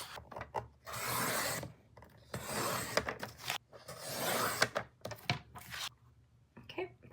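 Scissors trim a paper cutout from a calendar page for a craft, heard as several close, rasping snips and rustling bursts with short pauses between.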